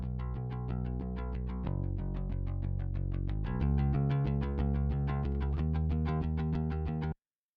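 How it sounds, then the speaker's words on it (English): A clean, unprocessed Squier PJ electric bass plays a steady run of plucked notes, with a deep, round tone and no talking, stopping abruptly at the end. "it was recorded with my Squire PJ bass into the fractal, completely dry"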